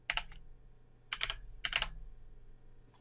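Three quick bursts of typing on a computer keyboard, close and crisp, with short pauses between the clusters over a low steady hum.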